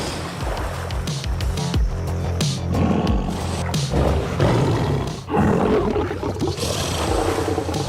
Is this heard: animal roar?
yes